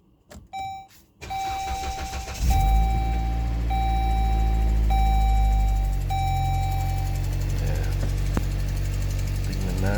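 A 2011 Dodge Journey 2.4L engine, after a fuel injector replacement, is started up: a few dashboard warning chimes sound first, then a short crank and the engine catches into a loud, steady idle.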